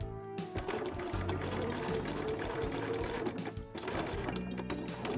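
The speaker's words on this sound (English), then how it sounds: "put the foot back down, and then I am going to stitch." A sewing machine top stitching the edge of a spring coat runs in a continuous close mechanical chatter, with one brief pause midway before stitching resumes.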